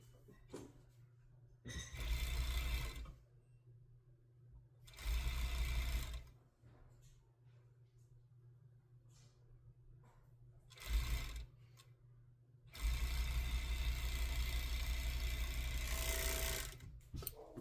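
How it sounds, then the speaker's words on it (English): Sewing machine stitching the side seams of a dress, running in four loud steady bursts of a few seconds each, the last and longest near the end, separated by quiet pauses with faint handling noise. "we're going to sew down the side seams of both"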